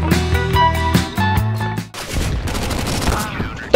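Rapid bursts of gunfire crack loudly in CS:GO, a dense spray of shots in tight succession, then a rougher, noisier stretch of continuing fire and echo with no talking over it.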